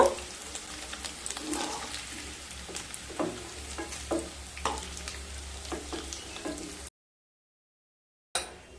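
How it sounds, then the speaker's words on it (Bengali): Cubed onion and capsicum fry in hot oil in a kadai for restaurant-style kadai paneer, a steady close sizzle broken by scraping stirs, then a brief silence before the frying resumes. "এবার ওই তেলের মধ্যে কিউব করে কেটে রাখা পেঁয়াজ আর ক্যাপসিকামগুলোকে ভেজে নেব"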